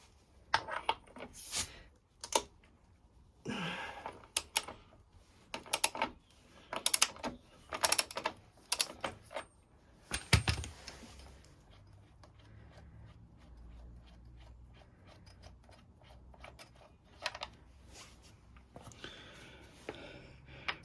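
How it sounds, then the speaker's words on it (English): Ratchet clicks and metallic tool sounds come in irregular bursts while the rear wheel spindle bolt of a KTM 1290 Super Adventure motorcycle is undone, close, followed by quieter scattered clicks and handling noise. "Then we have to undo the spindle bolt."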